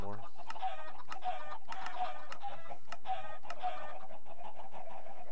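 Chickens in the Minecraft video game cluck in quick repeated bursts with sharp clicky hits, a game's small flock sounding close and clear with no talk over them.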